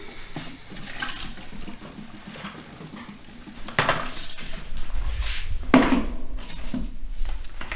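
Styrofoam dissolving in fuel inside a bucket, giving a faint, irregular fizzing and crackling with soft wet rustles that grow somewhat louder toward the end, heard close with no talking.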